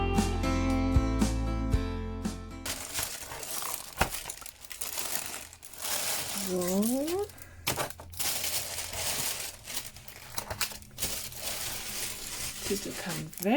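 Plastic bags crinkle and rustle in bursts while diamond painting items, a clutch, a box and pens, are unpacked close by, after a brief stretch of music, with a person speaking briefly between the rustles.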